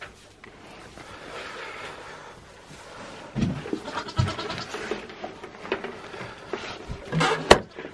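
Two young kid goats on a farm bleat repeatedly, several close, loud calls starting midway and continuing in uneven bursts over light background noise.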